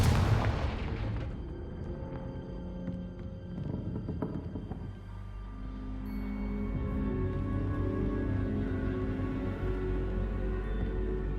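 In Hogwarts Legacy, a Confringo spell erupts as a loud, close fiery blast with a sharp onset, followed by a rumbling, ringing decay and sustained magical hum.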